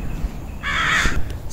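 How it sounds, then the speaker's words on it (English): A single drawn-out, raspy crow caw sounds near and clear in a garden, faint background noise around it. "Excuse the bird noise."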